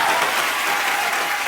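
Brief burst of dense studio audience applause on a comedy talk show, loud many-handed clapping that holds steady for a moment.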